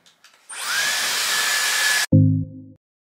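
A Dyson Airwrap blasts air over slightly damp hair, a loud steady whooshing roar with a high whine lasting about a second and a half, then cutting off with a brief tonal click.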